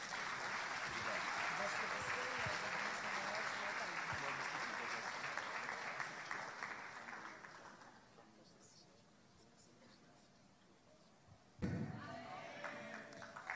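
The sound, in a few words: church congregation applauding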